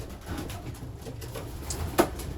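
Racing pigeons in a breeding loft, male section, giving soft low coos and shuffling under a steady room murmur, with one brief louder call near the end.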